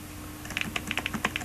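Quick, uneven keystrokes clack close up on the cramped, cheap-feeling keyboard of an Asus Eee PC 700 netbook, about a dozen sharp taps with a typewriter-like rattle and no voices.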